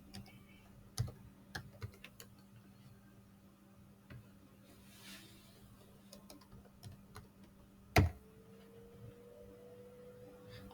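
Scattered keystrokes on a computer keyboard as a cardholder name is typed, quiet and irregular, with a sharper clack near the end over a low steady room hum.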